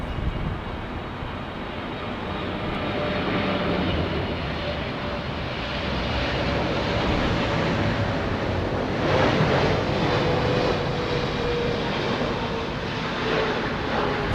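Air India jet aircraft at Heathrow Airport, its engines a steady broadband roar with some wind noise throughout, fairly loud and continuous with no talking.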